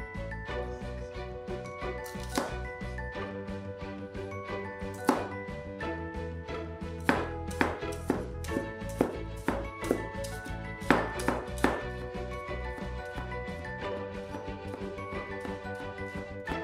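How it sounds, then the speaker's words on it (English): Knife chopping the white parts of a spring onion on a board, a quick run of sharp taps with several louder knocks, close and fairly quiet over a continuous bed of background music. "Next, chop up the white parts of a spring onion."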